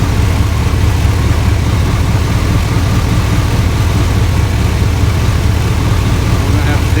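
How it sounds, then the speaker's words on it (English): A 1989 Chevy Silverado long bed engine with a compression leak runs steadily and close by, a loud, even low rumble with no change in pace throughout. "Safe to say that we have a compression leak somewhere in this engine."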